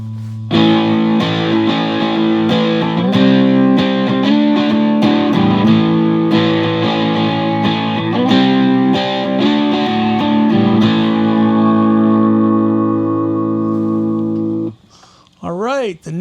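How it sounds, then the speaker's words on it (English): An electric guitar runs through a JHS Pack Rat distortion pedal with the distortion turned up slightly, playing sustained, heavily saturated chords and notes loudly for about fifteen seconds, then a brief bend of wavering notes at the end. "Turn the distortion up just a little bit."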